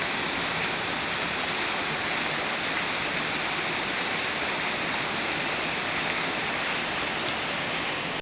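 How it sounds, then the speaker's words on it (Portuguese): A small natural waterfall in a forest setting rushes steadily, a constant broadband wash of falling water that stays close and even throughout with no voices. "Olha aí, cachoeirinha maneira."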